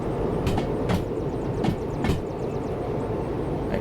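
A heavy 1,368-ton freight train rolling slowly into a siding in Derail Valley: steady low rumbling of wheels on track with several periodic clanks and squeals from the cars, close and continuous.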